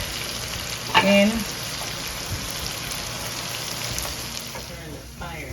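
Garlic drops into hot oil in a pan and sets off a sudden loud sizzle. A steady frying hiss follows, with a brief word spoken as it starts.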